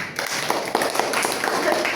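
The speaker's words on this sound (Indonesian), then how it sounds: "beri tepuk tangan" A classroom of students claps hands briefly, with quick uneven claps over a background murmur of voices in the room.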